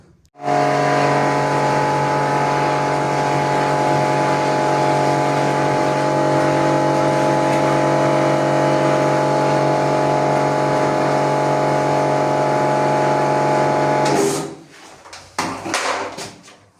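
A loud, steady mechanical drone from a pump-driven machine runs without a break, then cuts off abruptly and leaves a few clanks.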